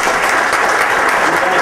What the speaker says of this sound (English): Give both boards a round of applause.